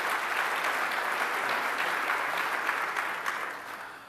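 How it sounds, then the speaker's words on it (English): Audience applause at a Solid Edge University 2014 presentation, a steady dense wash of clapping that holds for about four seconds and then begins to taper off, with no talking over it. "I really appreciate the fact that you guys applauded"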